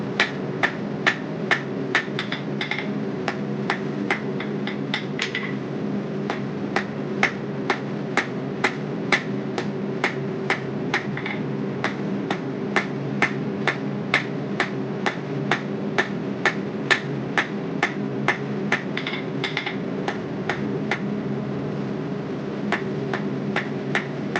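A hammer strikes hot steel repeatedly while forging a taper on the tines of a longhorn bull head coat hanger, sharp ringing blows in a steady rhythm with brief pauses, over a constant forge roar.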